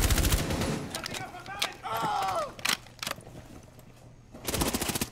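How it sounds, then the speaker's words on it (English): Rapid bursts of gunfire sprayed at a wall in Rainbow Six Siege during an Oregon team deathmatch hostage round, loud sharp volleys starting and ending the stretch with scattered shots between. "You're just shooting randomly at the wall?"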